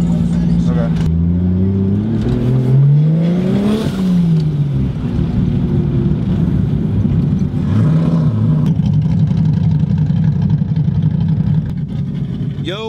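A BMW E46 M3 fitted with a 2JZ engine drives on a track, its engine droning loudly and continuously, with pitch rising and falling through revs and gear changes, heard close from inside the car.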